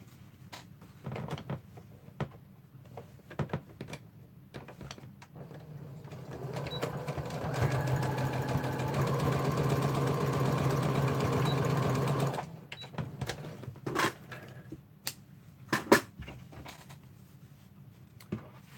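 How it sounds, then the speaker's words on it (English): A sewing machine stitches two fabric strips together into one long strap for a water bottle holder, running in one steady whirring burst of about five seconds between quieter handling clicks and fabric rustles. "I'm going to sew these two strips together so that I get one long strap."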